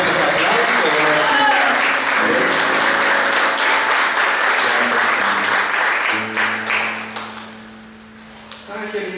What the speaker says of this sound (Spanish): Un fuerte aplauso para Jesús. Más fuertes aplausos.